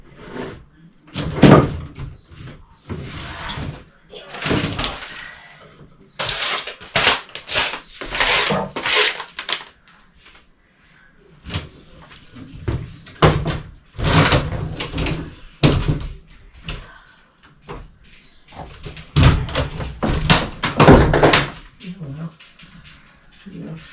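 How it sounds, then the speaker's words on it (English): Wooden closet doors in a craft room are pushed and shuffled shut with repeated scraping, rubbing bursts and knocks, loud and near, separated by brief pauses. "See if I can close the closet doors."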